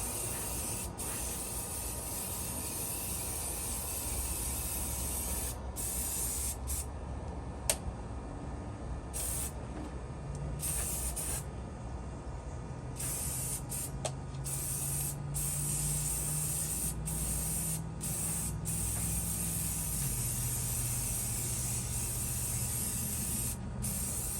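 A spray can of non-toxic spray hisses onto a cheap lantern in a series of short and longer bursts with brief pauses between them, close up, over a low background hum.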